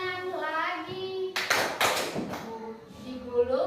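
In an elementary school classroom, children's hands clap a few times in a quick burst after a sung melody, with young voices singing around the claps.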